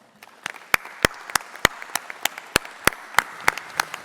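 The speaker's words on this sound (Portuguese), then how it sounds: "peço uma grande saudação e uma grande salva de palmas" An audience at the opening of a farmers' congress claps in a sharp, fairly slow, evenly spaced rhythm, with each clap loud and distinct against a quieter room.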